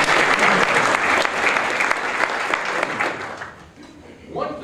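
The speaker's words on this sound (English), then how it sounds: "Let's give Judy a round of applause." An audience at a college staff day applauds in a loud, dense burst that gradually thins and fades, with a voice briefly starting at the end.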